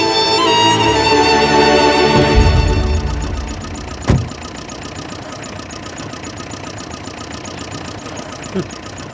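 A vehicle engine runs loudly with a rough, knocking rumble, then drops to a lower steady idle after a sharp thunk. Faint voices can be heard alongside the engine.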